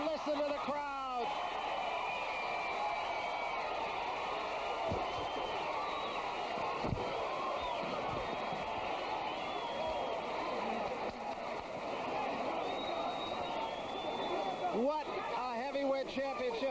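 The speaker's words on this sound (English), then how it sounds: "Listen to the crowd" Boxing arena crowd roaring after a championship heavyweight fight ends, a dense, steady wall of cheering and shouting that holds loud throughout, with whistles and scattered yells on top.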